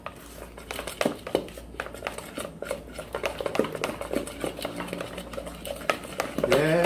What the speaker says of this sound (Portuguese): Mexe, mexe, mexe e mexe.